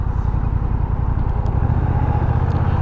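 A 2021 Honda Rebel 1100 with DCT transmission is ridden through city traffic, its engine a steady low thrum heard up close, loud and continuous against rushing wind.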